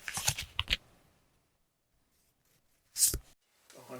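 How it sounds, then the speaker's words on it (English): Question cards being shuffled, with quick papery riffling bursts near the start and again around three seconds, separated by a quiet gap, followed by a faint voice. "let me shuffle them a little"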